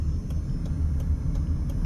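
A truck rolls past on a road on the east side of Las Vegas, a steady low engine rumble up close with faint periodic ticking over it and no voices.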